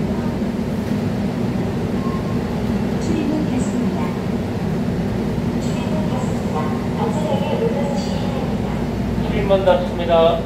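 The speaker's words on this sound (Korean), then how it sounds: "열차 출발하겠습니다" A Korail Line 1 express electric train runs with a steady, loud rumble and hum between Yongsan and Noryangjin, heard from inside the carriage, with announcement voices and a rising whine near the end.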